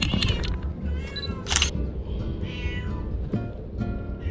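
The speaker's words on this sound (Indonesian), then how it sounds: "Oh, iya meong meong kucing." A cat meows a few times at a harbour street scene, heard amid outdoor ambience and a camera shutter click, with some brief talk nearby.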